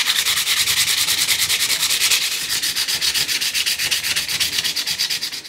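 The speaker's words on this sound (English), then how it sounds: "I think what I'll do is sand it back and prep it up for painting." Rhythmic back-and-forth sanding of rusty sheet metal on a Tasma 1002 radio being restored, close and steady with regular strokes, no voices.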